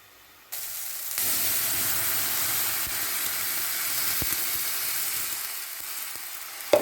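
Peeled yellow plantains, large cooking bananas, sizzle in a pan of hot oil with a steady, close hiss that swells after they drop in and holds evenly, with a few small pops near the end.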